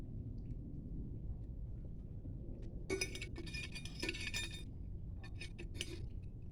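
Glasses clinking against one another in small bursts of bright chimes, a cluster of rapid clinks in the middle followed by a few scattered taps, close up over a low room hum, without talking.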